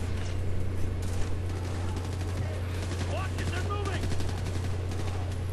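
Rapid bursts of gunfire crackle in the video game Ghost Recon: Future Soldier on hardcore difficulty, repeated volleys layered over a constant low hum and scattered combat effects.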